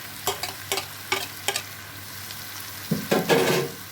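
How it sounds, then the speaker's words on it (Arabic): Pieces of offal frying in a pan, sharp stirring scrapes and clacks in quick bursts over a low steady sizzle, close up, ending in a louder rustling stir, with no talk. "مش هحمرهم قوي الحاجات دي لان لسه في تحمير تاني"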